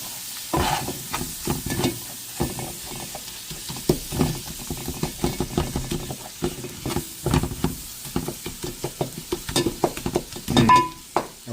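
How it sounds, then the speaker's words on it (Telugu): Masala frying in a pan for a very spicy homemade chicken curry, a gentle sizzle broken by frequent scraping stirs, close and moderately quiet, with no talk. "మసాలా వేగింది"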